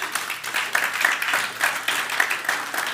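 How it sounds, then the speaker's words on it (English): Church congregation giving a hand clap of praise, a dense, steady wash of many hands clapping together at moderate distance, with no speech over it. "Give him a hand clap of praise."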